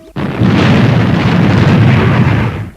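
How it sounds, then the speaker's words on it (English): Spacecraft retro rockets fire with a sudden loud onset into a sustained, roaring rumble that holds steady for a couple of seconds before cutting off sharply. "Fire retros, Robert."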